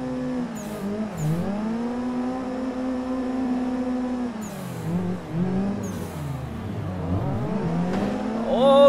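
Drifting Nissan 240SX and 180SX cars revving hard, their engines rising and falling continuously with bursts of tire squeal, loud and close.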